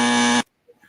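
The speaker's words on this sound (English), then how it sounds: "That was my timer, not the wrong buzzer." A loud electronic timer buzzer blares steadily for a moment, then cuts off abruptly, leaving near silence with a few faint small sounds.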